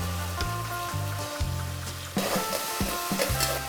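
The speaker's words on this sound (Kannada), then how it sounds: "ಸೊ ಎಲ್ಲ ಸ್ವಲ್ಪ ಡೀಪ್ ಫ್ರೈ ಮಾಡ್ಕೊಳ್ಬೇಕು." Chopped tomato frying in hot oil for paneer biryani, a loud, continuous close sizzle with rhythmic stirring scrapes and a brief surge partway through.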